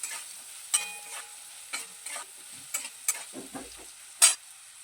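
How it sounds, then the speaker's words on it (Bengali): Potatoes stir-fried with salt and turmeric in a pan give a soft sizzle broken by sharp scrapes and clinks of a spatula at irregular intervals, fairly quiet, with no talking. "এবারে নুন আর হলুদটা আলুর সঙ্গে খুব ভালোভাবে নেড়ে চেড়ে ভেজে নেব।"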